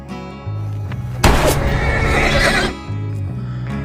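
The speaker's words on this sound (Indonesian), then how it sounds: "Carver menembak kuda tunggangannya milik Parsons untuk mencegahnya pergi membawa jasad itu ke kota" A horse neighs loudly and shrilly in a western film scene, one long whinny rising over a low orchestral music bed before fading back under the score.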